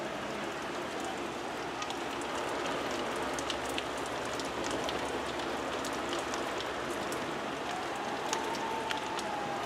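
Steady rain falls on windows and surfaces, a dense, even patter with scattered sharper drops, moderately loud and continuous throughout with no talk.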